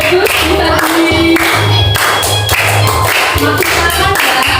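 Students on their feet sing a food-chain song together while clapping along, the rhythmic hand claps blending with bright, loud group singing throughout.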